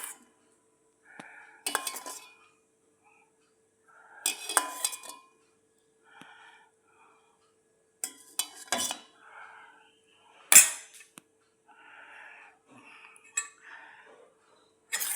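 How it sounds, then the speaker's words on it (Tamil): Curd is whisked in a bowl for a chili chutney, heard as bursts of clinking and scraping metal against the bowl, separated by short pauses. Nearby and clear, with no talking. "நல்லா விஸ்க் பண்ணி விட்டுக்கலாம்,"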